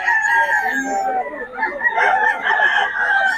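Chickens at a busy poultry market on a Philippine street, roosters crowing and hens clucking over one another in a dense, continuous layer, with faint voices in the background.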